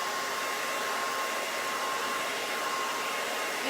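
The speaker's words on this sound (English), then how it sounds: "I'm going to give it a real quick hit with the hairdryer" A hair dryer blows with a steady, even whoosh, running continuously at close range without pause.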